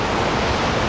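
A spectacular waterfall at the end of a dangerous hike, heard as a loud, dense, steady roar of rushing water close by, with no talking.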